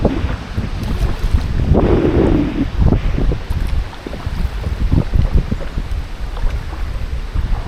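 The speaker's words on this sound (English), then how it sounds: "I'm not sure if you're going to be able to hear me because of the wind" Strong wind blows across the microphone beside a river, a loud continuous rumble with gusts that swell and fade and no talk.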